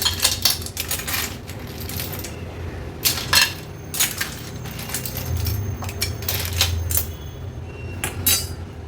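Cooked clams are moved from a pan onto a plate with a quick run of close, bright clinks and rattles of shells against metal and crockery, uneven and busy across the whole stretch.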